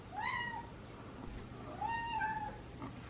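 A domestic cat meows twice in a kitchen, each call a clear, rising-then-falling cry, the second longer and drawn out, heard close over a quiet room background.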